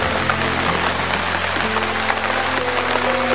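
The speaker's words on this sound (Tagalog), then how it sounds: "umuulan na." Rain falling outdoors, a steady loud broadband hiss of drops running without a break, with a low hum underneath.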